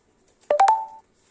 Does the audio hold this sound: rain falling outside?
no